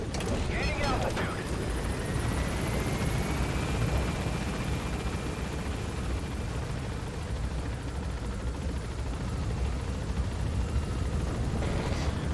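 Helicopter climbing in Metal Gear Solid, a steady loud rotor and engine roar filling the whole stretch with a faint rising whine, continuous and close.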